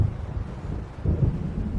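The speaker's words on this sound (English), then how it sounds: "It seems there's a storm coming." In the video game Alan Wake, a low rumble of thunder from an approaching storm rolls beneath wind, swelling briefly near the end of a short stretch.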